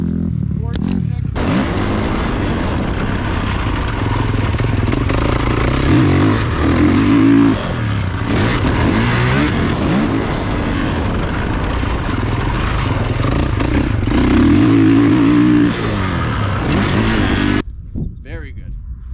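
A motorcycle is ridden and revved during a riding class at a moto academy in Fernley, Nevada. The engine surges and drops in repeated close bursts over a continuous running drone.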